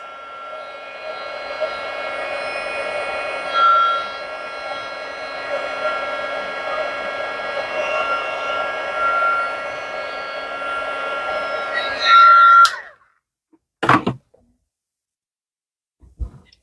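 Heat tool blowing steadily to set embossing powder on a card sentiment, a loud continuous whirring hum for about twelve seconds that swells briefly, then cuts off, followed by a few short knocks and clicks.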